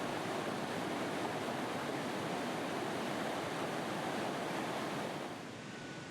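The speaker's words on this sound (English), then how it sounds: "A nice stream of water flows over this dam." Steady, dense rush of water pouring over a river dam, loud and continuous like surf, easing slightly in the final second, with no voices.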